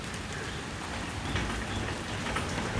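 Rain falling outdoors during a sunshower, a steady, even patter and hiss of drops on surfaces, with no voices.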